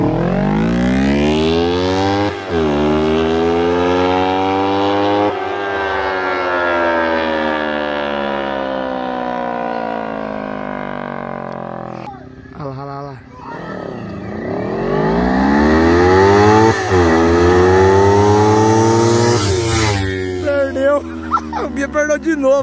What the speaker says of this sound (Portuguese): Eu quero escutar o giro do motor!